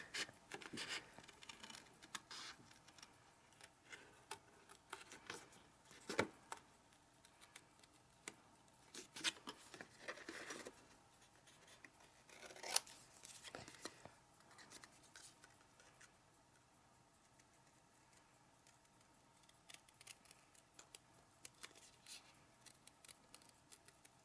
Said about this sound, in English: I want to cut inside the black lines